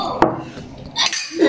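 Drinking glasses washed by hand at a kitchen sink, with a few sharp clinks and knocks of glass and running water splashing, close and brief.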